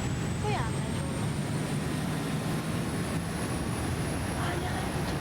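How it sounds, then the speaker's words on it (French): Airplane flying overhead at a distance near Saint-Martin, a continuous low engine rumble with a faint high whine, heard from inside a parked car, steady in level throughout. "Pourquoi il y a un avion là?"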